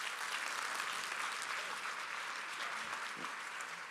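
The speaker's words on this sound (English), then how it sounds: "One more round of applause for the man." Audience at a conference session applauding speaker Rich Schefren; dense, continuous clapping heard fairly faint and distant, with a few voices briefly audible underneath.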